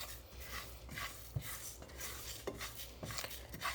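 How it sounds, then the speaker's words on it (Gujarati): Dabeli spice mix is roasted in a pan over a low gas flame, with continuous scraping and stirring of a utensil against the metal pan and a few light clinks. "ચલો શેકી લઈએ ધીમા ગેસે 2-5 મિનિટ સુધી."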